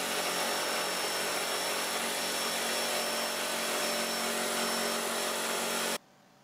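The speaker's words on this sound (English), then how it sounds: "They're just using the router and a little sled." A wood router cutting as it rides across a sled makes a loud, steady high-pitched whine for about six seconds, then stops abruptly, leaving near silence.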